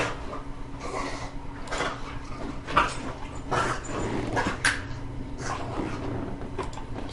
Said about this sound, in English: Also have loud dogs in the background